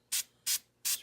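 3M Super 77 spray adhesive sprayed onto a paper pattern in three short, evenly spaced bursts, each a close, bright hiss lasting about a tenth of a second, with quiet between.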